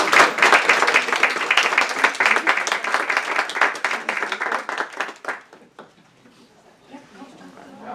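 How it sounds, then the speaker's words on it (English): A round of applause from a school board meeting audience for students, loud, dense clapping that tapers off after about five seconds into quiet murmuring. "a round of applause for"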